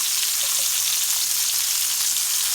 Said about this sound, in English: I love the sound of the sizzle